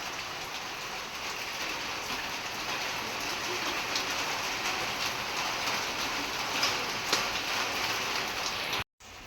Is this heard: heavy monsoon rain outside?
yes